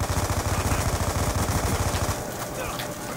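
Rapid automatic gunfire in Black Ops 2 during a base defence match, a dense continuous burst at close range for about two seconds before dropping to a fainter background clatter.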